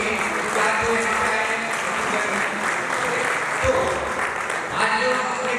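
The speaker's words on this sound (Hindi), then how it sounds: "उनके लिए एक बार दोस्तों ताली होनी चाहिए।" Sustained audience applause fills a business launch event hall in Raipur, Chhattisgarh, a dense steady wash of many hands clapping with faint voices mixed in throughout.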